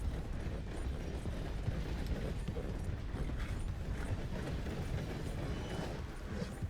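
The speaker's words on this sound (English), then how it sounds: "I hear a train, I swear I do." A steady, dense low rumble with rhythmic mechanical clatter rolls on without a break, like a train passing in Red Dead Redemption 2, heard at a moderate distance.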